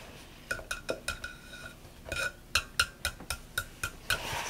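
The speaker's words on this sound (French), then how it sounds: "Et là, c'est pour écraser le beurre." Butter being mashed in a bowl for cookie dough, a quiet run of clinking utensil taps against the bowl in short irregular bursts.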